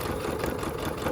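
A sewing machine runs steadily, stitching the seam of a small gusseted tote bag with a continuous dense mechanical whirr, close and moderately loud, no speech.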